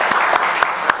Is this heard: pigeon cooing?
no